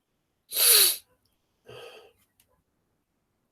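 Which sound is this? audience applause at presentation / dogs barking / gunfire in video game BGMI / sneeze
sneeze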